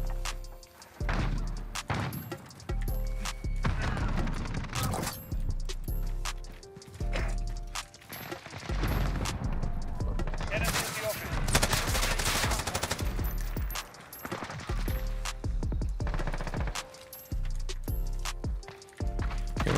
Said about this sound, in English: Shooting a bunch of long shots here.